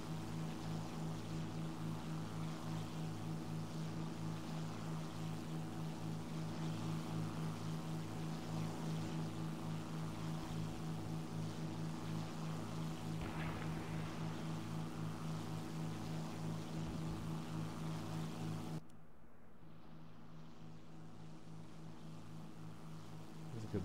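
Steady drone of a Hawker Tempest Mk V piston-engine propeller fighter in a flight combat video game, a constant low engine hum throughout that drops in level near the end, with no talking.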